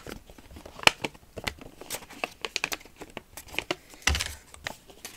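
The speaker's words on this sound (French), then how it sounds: "on marque bien les plis déjà de notre photophore." Paper candle holder with a leafy grove design being creased along its folds: dry crinkling and crackling rustles in quick irregular bursts, close and fairly quiet, with a few sharper snaps along the way.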